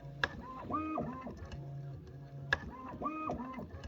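A matrix filler machine dispensing through a syringe nozzle during nozzle offset setup runs in repeating mechanical cycles, with stepped motor whines and sharp clicks recurring about every two seconds, close and steady with no talk.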